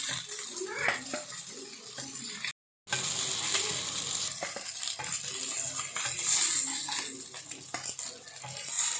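Fish frying in oil in a pan on a gas stove, a steady close sizzle with crackling pops throughout, broken once by a brief silent cut.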